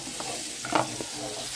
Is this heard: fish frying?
yes